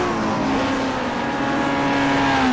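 Race car engines roar loud and steady in a TC60 touring car sim race at Mosport, with several tones climbing together in pitch as one car powers past another in an overtake, and no talk.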